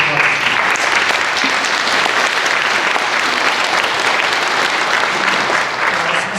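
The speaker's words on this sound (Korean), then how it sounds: "박수로 받으시기 바랍니다" Sustained, loud applause from a large crowd at a church commemorative ceremony, steady and dense clapping that fills the whole stretch without a break.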